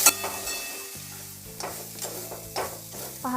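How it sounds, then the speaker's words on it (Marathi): Bombay duck fish frying in a pan with turmeric, asafoetida and salt, giving a steady close sizzle with scraping stirs and a few clinks from the utensil. "हळद, हिंग आणि मीठ टाकून आपण जेव्हा बोंबील परतून घेतो"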